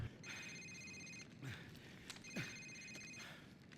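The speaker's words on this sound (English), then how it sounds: "Sir, it's his cell phone." A cell phone in Call of Duty 4 rings faintly in two short repeated electronic bursts over a quiet background hiss.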